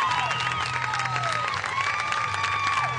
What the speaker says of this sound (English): I'm sure you can hear the crowd, what they're cheering for